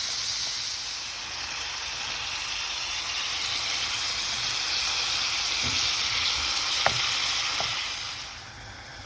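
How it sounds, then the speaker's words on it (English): Food fries in a pan with a steady, even sizzle and hiss that fills the whole stretch, plus a few faint clinks near the end. "Sizzle, sizzle, sizzle"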